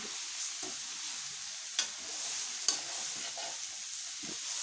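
Radish leaf (mooli) curry being stirred in a sizzling pan, a constant frying hiss broken by soft scraping strokes and two sharp clinks of the spoon against the pan.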